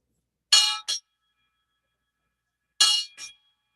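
A ship's bell at a Navy retirement ceremony rings four times as two quick double strikes, a pair of sharp clangs, a pause, then another pair, clear and alone against silence.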